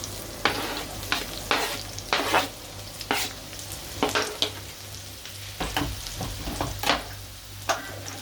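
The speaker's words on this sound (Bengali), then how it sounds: "তেলে আস্ত জিরার দানা দিয়ে দিলাম, এবং পেঁয়াজ কুচি দিয়ে দিলাম।" Chopped onions and whole cumin seeds fry in hot oil for a rohu fish and red spinach curry. A steady close sizzle is broken by repeated scraping stirs of a spoon in the pan, with no talk.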